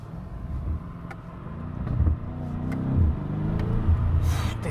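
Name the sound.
BMW M5 Competition accelerating, driver stepping on the throttle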